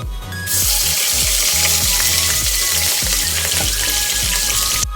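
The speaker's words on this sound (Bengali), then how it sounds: "এখন পেঁয়াজগুলোকে আমি একটু কাঁচা গন্ধটা যাওয়া পর্যন্ত ভেজে নিব" Onion paste hits hot oil in a pan for a chicken roast and fries with a loud, steady, close sizzle, with faint scraping in the background and no talking.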